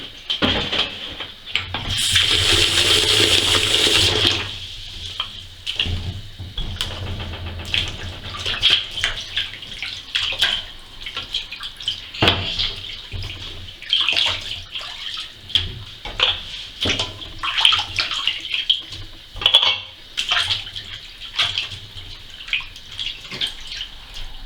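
Tap water runs into a sink to rinse salt from a duck before slow-cooker confit. It is a loud steady gush for a few seconds, then softer trickles, drips and clattering handling sounds, with no talk.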